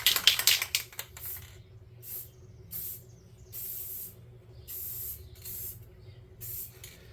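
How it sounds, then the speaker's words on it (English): Short bursts of aerosol spray paint for a metallic finish, sprayed from a distance on a tabletop game scenery piece, hissing in repeated pulses of roughly half a second to a second, evenly spaced, after some rattling handling at the start. "when I do this metallic finish, all I do is I spray it from a distance"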